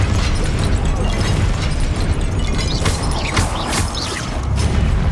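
A Confringo blasting spell goes off in Hogwarts Legacy, a dense, loud burst of explosive noise and crackling debris that fills the whole span without a pause, with a brief dip near the end.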